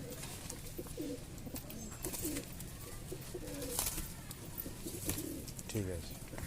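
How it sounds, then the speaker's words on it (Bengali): Kalshera Giribaz pigeons of Bengal coo in soft, repeated throaty phrases close by, over a noisy background. "এই পায়রাটা খুবই স্পেশাল পায়রা দেখতে পাচ্ছি"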